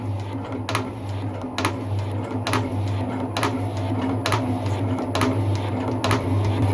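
A 10-inch metal shaper cutting a 9-inch steel bar, a steady mechanical hum broken by evenly spaced sharp clacks of the ram's strokes, close and repetitive.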